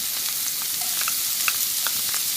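Onions and leeks sauteing in a hot pan, a steady dense sizzle punctuated by scattered pops and light stirring clicks, up close with nobody talking.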